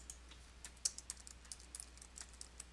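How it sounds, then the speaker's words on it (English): Computer keyboard typing while entering a code into an accounting program's memo field, a quiet run of light, irregular keystroke clicks with no talking. "type an item receipt code or other distinguishing information into the Memo field"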